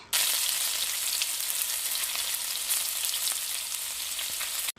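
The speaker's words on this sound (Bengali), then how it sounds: "এই তেলের মধ্যে বাকি ব্যাটার থেকে ছোট ছোট বড়া তেলের ওপর দিয়ে দিচ্ছি হাতের সাহায্যে" Small lentil-batter fritters (dal bora) frying in hot oil, a steady dense sizzle with fine crackling pops that runs unbroken and fairly loud from start to finish, with no talk.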